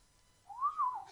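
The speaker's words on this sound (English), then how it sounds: "Whistling through the woodwind instrument that dangles to greet us." In a video game, one short, haunting whistled note rises and then falls, fairly faint, against near silence.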